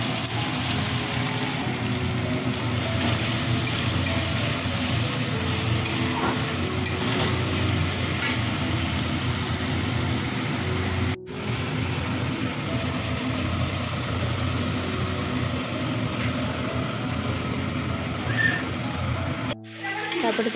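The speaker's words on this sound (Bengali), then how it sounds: "তারপর দেখো পেঁয়াজ আর টমেটোটা ছেড়ে দিয়েছি" Onion and tomato frying in a pan, a steady, close sizzle running throughout with a faint background hum and two brief dips in level.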